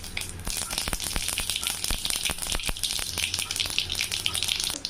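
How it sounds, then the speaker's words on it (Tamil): Mustard seeds and urad dal sizzle and crackle in hot oil in a pan, a loud, dense hiss with sharp popping spatters throughout. "எண்ணெய் காஞ்சிடுச்சுங்க. 1 ஸ்பூன் கடுகு, உளுந்த பருப்பு 1 ஸ்பூனு"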